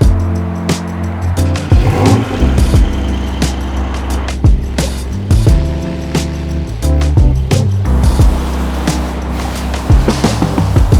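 A car engine idles and revs close by as the vehicle pulls out, with tyre and mechanical noise and a few knocks, no talking.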